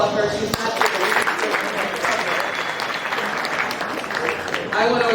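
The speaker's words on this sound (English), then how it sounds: "We can applaud her." Applause from guests at a Crown Heights brunch swells into a dense wash of clapping, with a voice speaking briefly at the start and again as the clapping fades.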